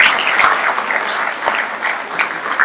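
Steady clapping from an audience at a poetry conversation event, loud and continuous throughout with a few sharper individual claps standing out.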